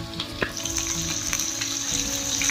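Chopped onion and curry leaves frying in hot oil with cumin, a steady close sizzle with a few stirring clatters, no voices.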